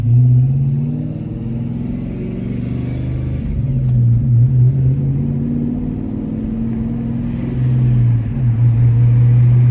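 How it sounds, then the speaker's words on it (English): A 1995 car lowered on budget coilovers cruises down a street, its engine a steady low hum with mild swells in revs, close and continuous with no talking. "All right, we're driving down the street, boys."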